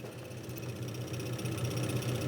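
A Dodge 417 stroker engine in a D100 shop truck cranks over with the spark plugs removed, giving a quiet, rapid, even mechanical churning with a regular pulsing rhythm, heard up close and alone.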